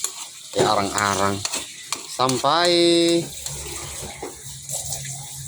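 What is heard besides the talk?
frying palm oil pulp in a pan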